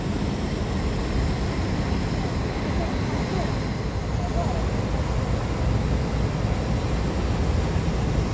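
A Gardênia series 18 coach on the Belo Horizonte to São Lourenço service accelerates hard into the Belo Horizonte bus station, giving a steady, loud broadband engine roar that holds throughout.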